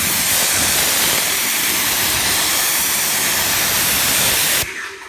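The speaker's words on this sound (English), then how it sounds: "Let's rinse that off of there." A pressurised water spray rinses white foam cleaner off a car's paintwork, a loud close continuous hissing rush that cuts off sharply near the end.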